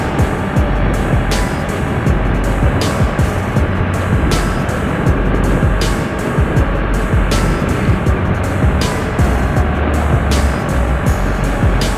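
A Kawasaki ER-6n motorcycle rides along the road, engine drone mixed with heavy wind rush and steady road noise, loud and continuous throughout with faint periodic thumps.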